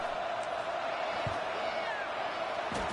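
A stadium crowd roars in an American football video game as a field goal unit lines up, a constant mid-level hubbub of massed voices with a few faint thuds.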